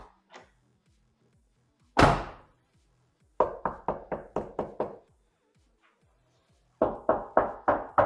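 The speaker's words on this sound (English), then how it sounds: "Like once I knock it, I can feel it reverberate back." Knuckles rapping the outer door skin of a 1994–1998 Ford Mustang SN95 during sound-deadener installation: one loud knock, then two rapid bursts of about six sharp, hollow knocks each, close up with quiet gaps between.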